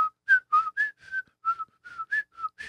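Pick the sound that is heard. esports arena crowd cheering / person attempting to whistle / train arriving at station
person attempting to whistle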